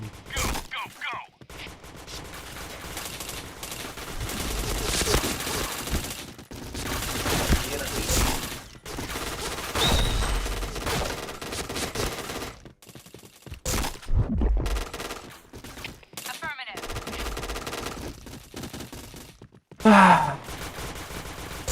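Rapid MP90 gunfire in a video game, with dense, recoil-free bursts of shots close and loud through much of the stretch, broken by short pauses, and a sharper burst near the end.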